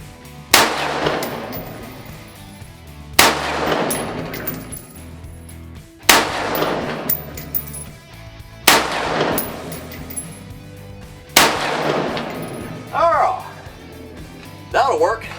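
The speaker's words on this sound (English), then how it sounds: "I'm about to shoot my first 5 shots." Five evenly spaced rifle shots crack out at a target on a range, each a sharp, loud report with a short ringing tail, roughly every two and a half seconds. Brief talk follows near the end.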